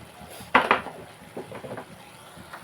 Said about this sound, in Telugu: కలుపుతున్నామండి కాసేపు.